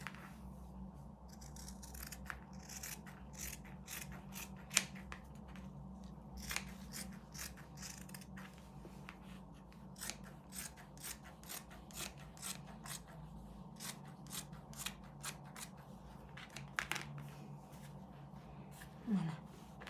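Scissors snip through fabric for a dress yoke trim, a steady run of short crisp cuts repeating close to the microphone over a low room hum, with no talking.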